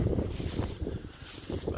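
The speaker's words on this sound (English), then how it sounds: "Here's the wind. Never stops." Steady outdoor wind roars and buffets the microphone in gusts for the whole stretch, loud and low, with no voices.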